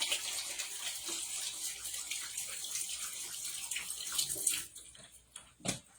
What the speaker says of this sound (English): Let me just wash my hands, get this onion off.